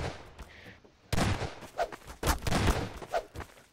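Gunfire in a prop hunt video game: a sudden burst of rapid shots followed by several more loud cracks in quick succession, with quieter game noise before.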